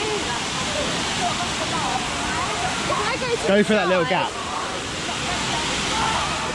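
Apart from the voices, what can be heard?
waterfall at Discovery Cove lazy river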